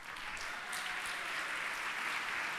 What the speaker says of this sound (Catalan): un aplaudiment ben fort per ella